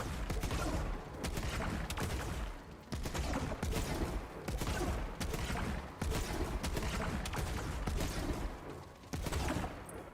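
Shotgun fire in Borderlands 3 comes as dense, rapid blasts in bursts, loud and close, with short gaps between volleys.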